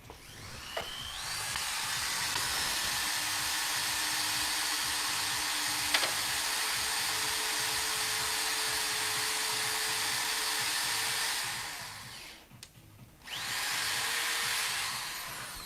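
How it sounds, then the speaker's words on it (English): Makita power drill driving a 3/8 inch bit through a 2x4 and a second material at once, a steady close whine held for about ten seconds, a short pause, then the motor spins up again. "we're going to be drilling both materials at the same time with this 3/8 inch bit"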